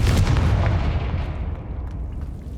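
A Confringo fire spell explodes in the video game Hogwarts Legacy, one loud deep boom that rolls into a long rumbling decay and fades over a couple of seconds, with no talk over it.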